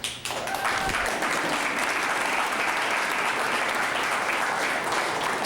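Audience members at a city council meeting break into clapping after a public comment supporting a bike park, a dense, steady wash of applause that starts abruptly and holds at an even level for several seconds.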